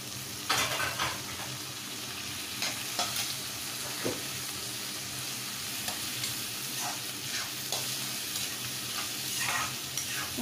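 Onions and tomatoes sauté in a pan for vada curry. A continuous sizzle runs under repeated stirring scrapes and light utensil taps, close and at moderate level, with no talking.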